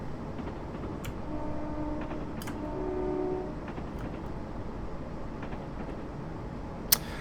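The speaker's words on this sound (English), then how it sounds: "I need to slow down here to get down to 25." A Class 170 diesel multiple unit running on the Great Yarmouth to Norwich line in Train Simulator 2017, a steady low rumble of rolling wheels and engine with faint tonal squeals and a sharp click near the end.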